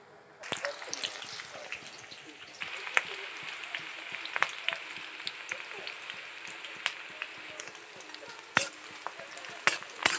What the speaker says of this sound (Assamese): পেঁয়াজখিনি ৰঙচুৱা হ'লৈকে ভাজি থাকিব